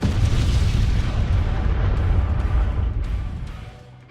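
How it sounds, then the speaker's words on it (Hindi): A loud, rumbling animated explosion roars continuously with a deep, heavy low end, then slowly fades toward the end. "और फिर वहां पर एक जोरदार धमाका होता है।"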